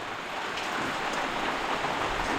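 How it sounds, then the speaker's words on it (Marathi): Heavy rain pours in a dense, unbroken hiss over village farmland near a stream, loud and close, with nothing else audible. "गावाकडे ॲक्च्युली ना सकाळपासून भरपूर पाऊस आहे"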